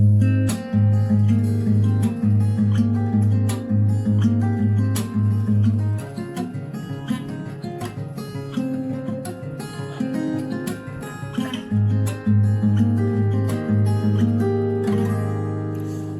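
Electric guitar tapping riff, fast repeated plucked notes in a steady rhythmic pattern over sustained low tones, played alone and loud.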